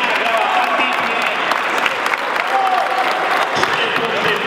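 Sustained, dense clapping from a crowd at an indoor league final, applauding a team for several seconds at an even loudness with faint voices mixed in.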